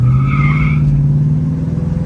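A 1969 Ford Mustang Mach 1 with a 351 engine pulls away under steady, loud engine drone, with a short high squeal early on over the deep, continuous rumble.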